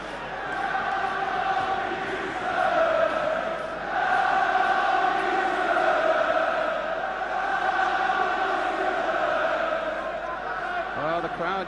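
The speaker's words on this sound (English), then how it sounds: "Well, the crowd, you can hear, come on you Spurs, one last big effort." Huge crowd at a 1983/84 UEFA Cup Final second leg between Tottenham Hotspur and Anderlecht chants for Spurs in a steady, swelling roar that rises and falls over the whole stretch, with a commentator talking over it.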